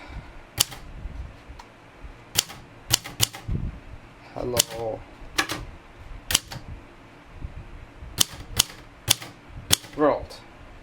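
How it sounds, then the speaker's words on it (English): Manual typewriter being typed on, sharp separate key strikes in an irregular rhythm with mechanical clicks between them; a voice speaks briefly. "And we can start typing."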